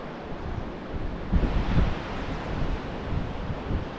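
Ocean waves and wind at Cavendish Beach National Park on Prince Edward Island, a broad steady surf wash with gusty microphone buffeting that peaks briefly midway, no voices.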